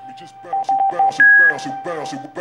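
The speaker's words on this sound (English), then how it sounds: "get some music going here on iTunes Radio" Music from iTunes Radio plays at maximum volume on an Omaker M4 portable Bluetooth 4.0 speaker, loud and close, with a melodic voice-like line and steady tones.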